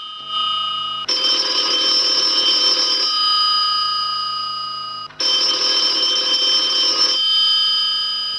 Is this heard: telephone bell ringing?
yes